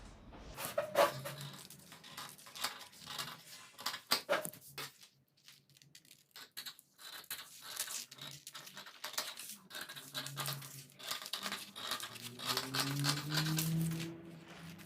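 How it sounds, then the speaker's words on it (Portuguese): Scissors cut fabric for the sleeve of a child's dress: close, irregular snips and soft crisp cuts come in quick clusters, with a short quieter pause in the middle. "Vamos lá e vamos cortar agora a nossa manga."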